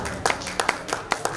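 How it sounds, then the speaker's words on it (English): Audience at the Global India Awards 2024 ceremony gives a few scattered, sparse claps, brief sharp hand strikes spaced irregularly over a low room murmur. "Can we have huge claps everyone out here?"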